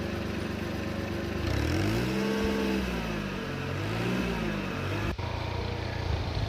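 A Mitsubishi farm tractor, cooled down with water, has its engine revved close by: a steady idle rises into a couple of sweeping revs, then drops back, with a sharp knock near the end.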